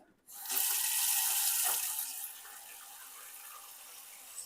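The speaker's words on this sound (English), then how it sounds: "Just gonna get some water in here." Kitchen tap water runs into a cooking pot for fish soup, a loud close gush that settles into a softer, steadier filling sound as the pot fills.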